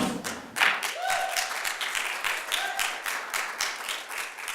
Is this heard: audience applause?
yes